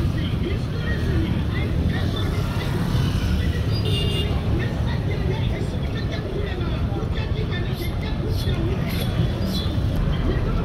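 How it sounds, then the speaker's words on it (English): Buses and other traffic on the busy highway linking Kampala to northern Uganda near Matugga, a constant loud rumble of engines and tyres close by, with a voice talking over it. "this road is very busy with buses, as it is the only highway that connects Kampala to northern Uganda"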